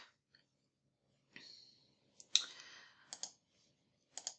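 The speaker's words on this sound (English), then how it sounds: "So we're going to click on the link." A few crisp computer mouse clicks scattered over several seconds, quiet and close, with faint breathing between them.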